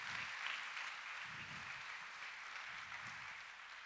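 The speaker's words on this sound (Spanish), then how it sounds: "¿Por qué no le damos un aplauso fuerte," A church congregation applauding together in a steady, dense wash of clapping that holds for several seconds, somewhat distant and even.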